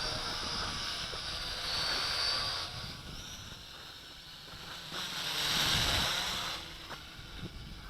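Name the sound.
HT F801C quadcopter drone flying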